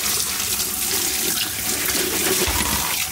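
Tap water runs steadily while taro is washed, a continuous broadband rush with a heavier splash near the end and no talking.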